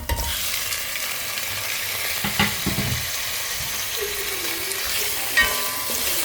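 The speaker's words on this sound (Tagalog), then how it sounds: "Igigisa natin yung bawang at yung parsley." Garlic, parsley and peperoncino sauté in a pan, giving a steady close sizzle with scraping stir strokes and a few louder clinks, no voices.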